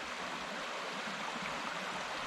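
Water runs down a small mossy rock slide along a forest hiking trail, a steady close rush of flowing water heard alone without voices.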